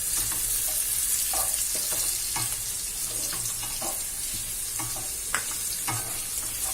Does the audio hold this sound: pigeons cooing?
no